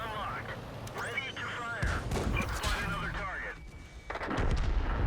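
Tank cannon fire in World of Tanks, a tier-six battle involving a Churchill, a VK and a Hellcat: several heavy booming shots and impacts amid engine rumble, with someone talking over the action.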